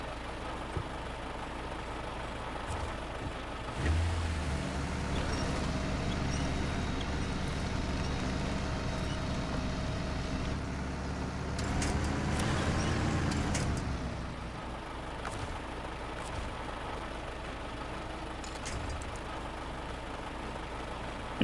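In the Snow Runner video game, a truck drives through small bushes with a steady, rumbling engine drone. Near the start a low note kicks in, and partway through there is a louder strained stretch before it settles back to an even run.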